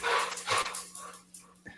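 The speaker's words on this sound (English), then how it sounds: "sorry, the dog's barking in the background." A dog barks and yips a few times in the background, faint and somewhat distant, in an indoor room during an online coaching call.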